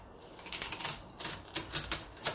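A pineapple being peeled with a knife, giving a series of crisp, irregular cutting and scraping strokes close by, with no talk over them.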